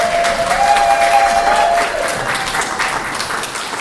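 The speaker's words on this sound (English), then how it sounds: "Woo! Applause." Audience applause with a few cheers at a book launch for a new novel, steady and dense clapping from a crowd for about four seconds, easing slightly toward the end.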